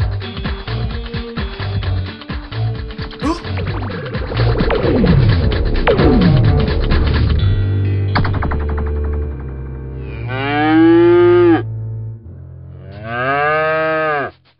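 Several loud video game cow moos overlap with a low throbbing hum, followed by two long, drawn-out synthetic-sounding moos near the end.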